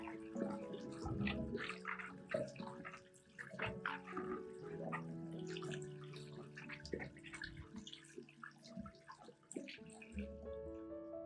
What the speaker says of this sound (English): rinse them thoroughly with clean water to completely remove the salt and impurities.